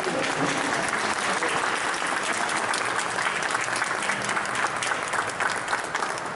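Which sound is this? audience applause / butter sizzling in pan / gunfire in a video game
audience applause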